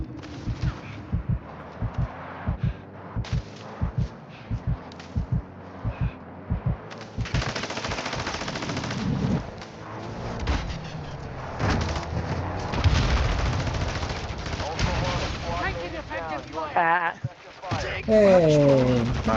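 Rapid bursts of gunfire ring out in a multiplayer shooter video game, starting as regular repeated shots and giving way to dense continuous firing and effects, with people talking over the action.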